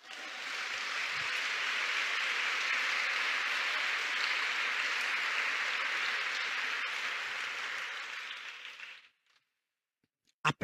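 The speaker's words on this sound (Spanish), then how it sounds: "Dele un aplauso a Jesús." An audience at a Christian women's teaching service applauds in a long, dense burst of clapping that swells, holds steady for about nine seconds, then fades out to near silence.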